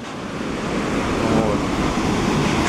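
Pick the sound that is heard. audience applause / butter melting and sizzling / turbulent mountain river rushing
turbulent mountain river rushing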